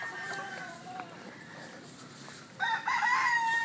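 Rooster crowing at a farm yard among giant breed hens, with a fainter crow early on and a louder, closer crow near the end over steady background noise.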